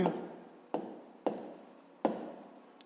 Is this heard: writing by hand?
yes